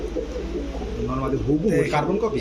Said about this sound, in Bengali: সহ দর্শক একদম ক্রিম চোখের কবুতর